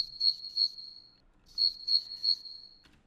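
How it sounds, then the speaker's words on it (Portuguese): Crickets chirp steadily as night ambience in two clear clusters of rapid, high, shrill pulses with a short pause between them. The chirping stands alone against quiet. "Os grilos, a ambiência"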